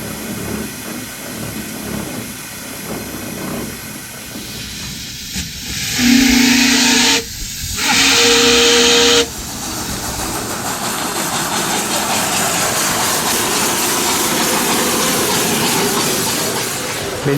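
A 1910 Stanley Type R steam car with its engine warm, giving a loud continuous steam hiss and rush, broken midway by two sustained whistle-like blasts separated by a short gap, then settling back to steady hissing.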